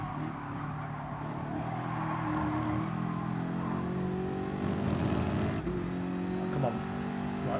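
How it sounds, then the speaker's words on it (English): A car engine in the racing game Gran Turismo Sport revs steadily across the whole stretch, its tone climbing and settling, with a person talking over it throughout. "I need to rev the car all the way up."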